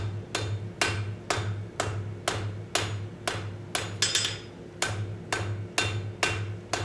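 A hammer strikes metal being forged on an anvil in a steady run of sharp ringing blows, about two per second, close and loud with no talk.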